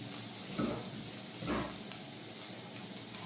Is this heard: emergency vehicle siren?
no